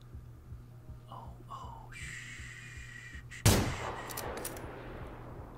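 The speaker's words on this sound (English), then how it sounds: "We'll call that a warning shot." A single loud gunshot, fired as a warning shot in Generation Zero, cracks out midway through a quiet stretch of ambient game sound and leaves a long echoing tail.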